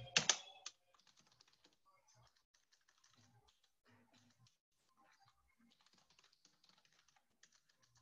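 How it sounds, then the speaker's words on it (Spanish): Typing on a computer keyboard during an online class: faint, scattered light key clicks and taps spread across several seconds after a brief louder burst at the start. "miren cómo se me va en la mano el teclado"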